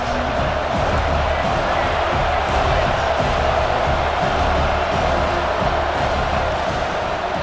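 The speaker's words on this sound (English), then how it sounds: "the crowd coming to life here, trying to help this defense down in the red zone" Stadium crowd in the College Football 26 video game roars steadily as the defense holds in the red zone, a dense, continuous wall of cheering with no clear breaks.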